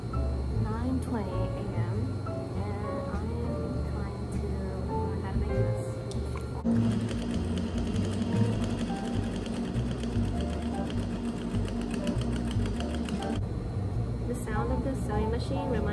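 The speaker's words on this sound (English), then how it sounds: "So every morning I will hear the sound of the sewing machine." An industrial sewing machine runs steadily and close by for the whole stretch, its rapid mechanical stitching growing denser and louder in the middle section, with speech and room noise mixed underneath.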